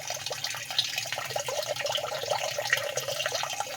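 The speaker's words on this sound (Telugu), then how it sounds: "వెయ్యి లీటర్లు వెంచూరు ద్వారా పంపుతాను" Waste decomposer liquid from a thousand-litre drum runs through a drip venturi into an oil palm plantation, giving a steady close trickle and gurgle of flowing water with no voices.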